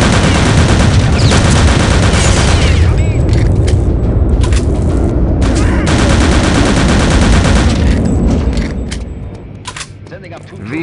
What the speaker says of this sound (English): V2 rocket test to commence in 5, 4, 3,